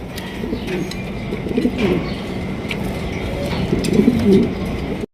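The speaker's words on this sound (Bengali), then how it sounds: "স্প্যান্ডেল কালারের একজোড়া শৌখিন কবুতর ডিম বাচ্চা করানো রানিং পেয়ার" A pair of spandel-coloured fancy pigeons cooing close by, with repeated low throaty coos over a steady background murmur.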